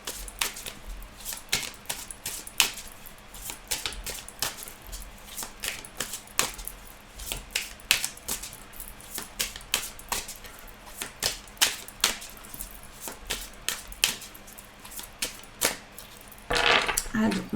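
Tarot cards are shuffled and handled on a table, giving a long series of sharp, irregular clicks and slaps with brief flurries, and a louder burst of shuffling near the end.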